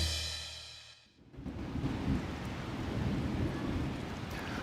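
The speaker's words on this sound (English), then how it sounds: "The rain's starting right now." Rain begins over a warehouse climbing venue in Salt Lake City, a broad, close hiss of falling drops with low rumbling beneath. It rises after a brief lull and stays steady, with no voices.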